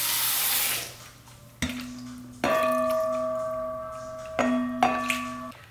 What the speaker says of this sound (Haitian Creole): mettons un petit de l'eau